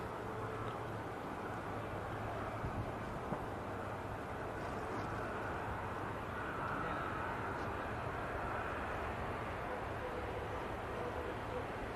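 A plane landing at Manchester Airport, heard as a steady distant engine roar and rushing rumble holding evenly throughout with no clear voices.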